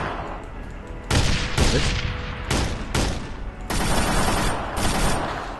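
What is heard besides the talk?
light machine gun firing on armored vehicle, ARMA 3 video game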